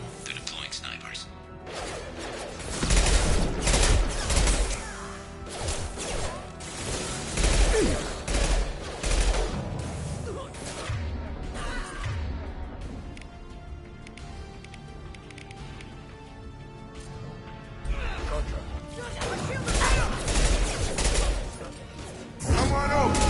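Gunfire in the video game Mass Effect 2, loud bursts of shots in clusters against a busy combat soundscape, with game voices speaking in between.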